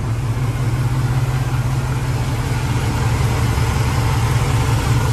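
A Chevrolet 305 V8 with 161,000 original miles idles steadily once warmed up, a loud, close, continuous low rumble with an even, unbroken drone and no speech over it.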